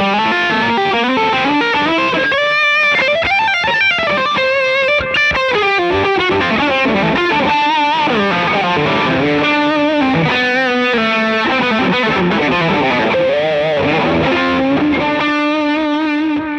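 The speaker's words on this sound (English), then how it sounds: "It's just a really awesome distortion sound, and this delay sound is excellent too." Heavily distorted electric guitar playing a sustained melodic line, with echoing delay repeats trailing each note; loud and continuous with no voices.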